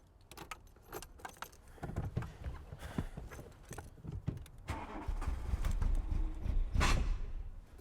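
Keys jangle in a VW Golf Mk2 before its engine cranks and catches, then settles into a rough, uneven idle that builds in loudness close by, with a broken HT lead as the known fault.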